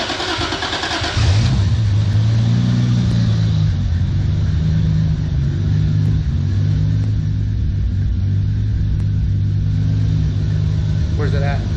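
A Toyota Supra MKIV engine, fuelled with a high-ethanol blend, cranks and catches after about a second, then settles into a loud, steady, rumbling idle.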